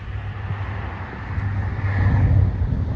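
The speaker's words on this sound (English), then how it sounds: "There's always traffic out here." Road traffic rumbles outdoors as a steady low roar with a vehicle swelling louder as it passes nearby, no talking over it.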